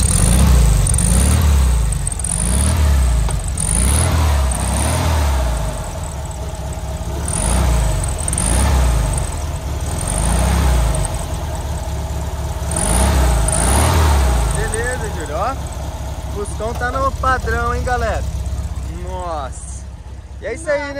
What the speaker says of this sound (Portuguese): só da gente escutar esse barulhinho original do Fusca aí, nossa, é muito gostoso o barulhinho de Fusca, né, Gu?